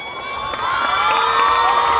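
Audience at a children's annual function cheering and applauding a performance, a dense sustained roar of whoops and shouting that swells louder after the first half-second and keeps going.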